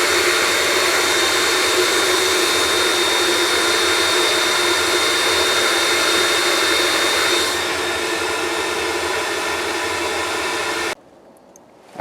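A waste-oil workshop heater burns with a loud, steady roar and a faint tonal hum, dipping slightly in level partway through before cutting off abruptly near the end.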